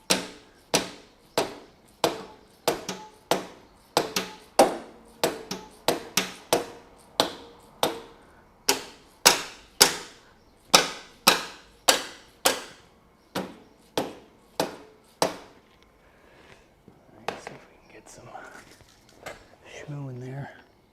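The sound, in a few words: hammer tapping on air-cooled VW engine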